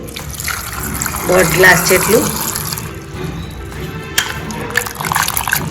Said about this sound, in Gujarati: તો પાણી એડ કરીશું